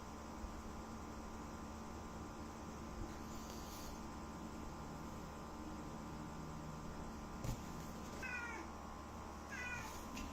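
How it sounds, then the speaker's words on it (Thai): Several house cats meow at home, two short rising calls near the end over a steady low hum and background hiss, with no talk. "พอดีบ้านพี่มีแมวเยอะ"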